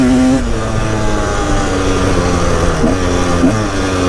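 A Husaberg TE 300 dirt bike engine, its rear brake overheated, pulls hard with a loud, close buzzing note that shifts in pitch as it accelerates.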